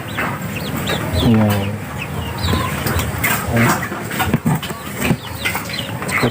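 Pet chickens on a black soldier fly farm cluck and squawk close by, busy and fairly loud, while a person speaks briefly over the birds.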